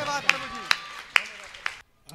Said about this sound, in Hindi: ताली बजाकर पर यीशु का धन्यवाद करें